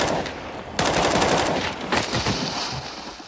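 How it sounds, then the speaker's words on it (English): Rapid automatic gunfire in the video game CS:GO, bursts of loud shots in quick succession that continue through the clip with echoing tails, with no talking. "This guy's gonna gun them all down."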